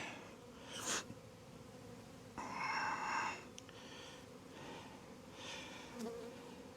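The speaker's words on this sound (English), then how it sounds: "I see some newly emerged nurse bees" Honey bees buzzing around an open beehive frame with newly emerged nurse bees, faint intermittent buzzing that swells as individual bees pass close, with soft handling sounds in between.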